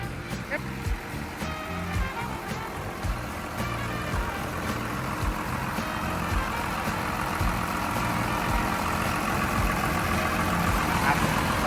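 A diesel engine of a Komatsu WA270-5 wheel loader running at a steady idle, loud and close, its rumble growing slightly, with a voice talking over it.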